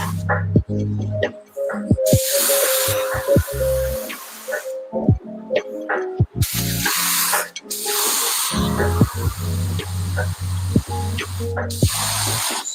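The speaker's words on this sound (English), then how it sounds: "I'll end up spraying it again too after I flip it over" Spray adhesive hisses from a can in several long bursts onto vinyl wrap for a subwoofer box, near and loud, separated by short pauses with handling clicks and a low hum underneath.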